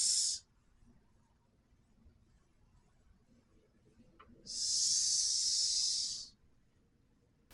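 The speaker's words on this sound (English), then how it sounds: "snake noises would frighten small animals away" Two loud, close hissing bursts like a snake, one brief at the start and a longer sustained one of about two seconds later, separated by near silence. The hiss is a sound effect added in editing.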